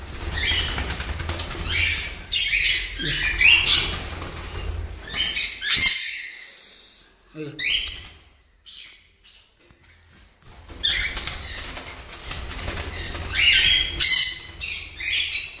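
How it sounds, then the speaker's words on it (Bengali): Cockatiel chicks squawk shrilly in bursts amid fluttering, flapping wings, with a brief quieter pause midway before the squawking and flapping resume. "আমি আস্তে আস্তে পাখিগুলো ছেড়ে দিচ্ছি।"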